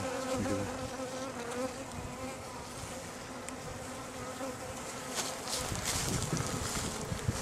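Honey bees buzz continuously during removal of a hive from a tree, a dense close drone of many insects with no talk.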